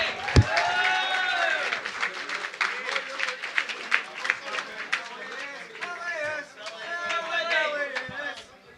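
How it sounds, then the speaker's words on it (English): An audience at a Scottish sovereignty celebration event applauds as a performer is brought up, clapping running under a voice talking over it at moderate volume. "Billy, a round of applause for Billy"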